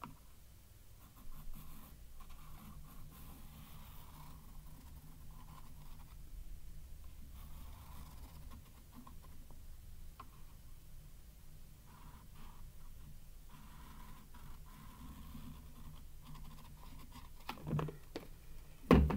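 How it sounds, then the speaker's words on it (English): A pen or marker traces a circle on a sheet of yellow paper around a small canister, giving soft, intermittent scratchy strokes, quiet and close with no talking. "Just going to put my little canister down on my yellow piece of paper, and then I'm going to draw a circle."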